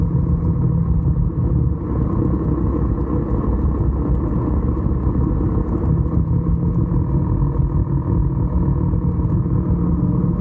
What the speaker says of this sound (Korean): 배기음이 영상을 너무 망치는 것 같습니다.